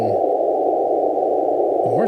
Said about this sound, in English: Morse code right now.